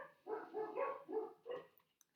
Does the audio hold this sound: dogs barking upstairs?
yes